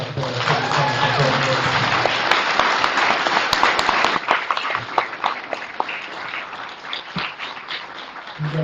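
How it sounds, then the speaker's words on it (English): Audience applause for city council candidates at a Gahanna candidate forum, a sustained crowd of clapping that swells and then thins out over several seconds, with a voice briefly audible near the end. "How about a big round of applause for our city council"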